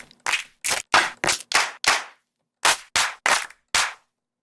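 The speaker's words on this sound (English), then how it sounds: "my favorite clap pack is the Waves Alchemy Claps and Stacks" Layered, processed clap samples from the Waves Alchemy Claps and Stacks pack, played as ten sharp, punchy hits in two evenly spaced groups with a short gap between them, dry and loud with no talking.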